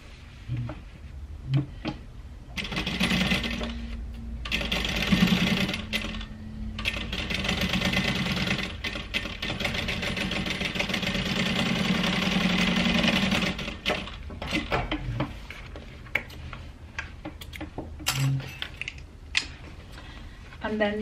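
A sewing machine runs in long steady bursts, stitching the side panel onto a handbag, with short pauses and handling noises between runs.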